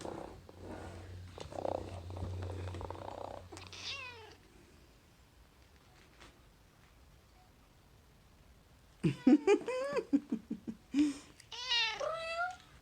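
A robotic toy cat made for people with dementia gives a low steady purr for a few seconds, then quiet, then a series of short, high meows, fairly close.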